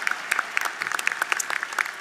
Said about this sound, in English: Please join me in giving Dr. Sastre another warm round of applause